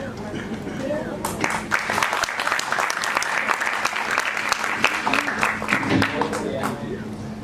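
Loud audience applause welcoming a singer onto the stage at a Bollywood musical night, dense sustained clapping from a large crowd after the host's introduction.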